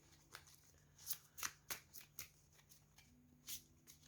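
Crisp riffling and snapping of playing cards being shuffled, a burst of quick flicks followed by a few softer taps, close and fairly quiet.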